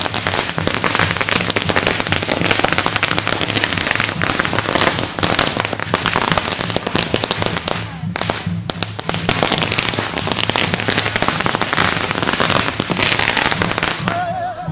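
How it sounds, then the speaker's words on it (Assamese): A dense, loud barrage of firecrackers and fireworks cracks and pops continuously during a Rongali Bihu procession, with a brief lull before the bursts resume. "ফটকা আতচবাজী ইয়াত ফুটি উঠিছে"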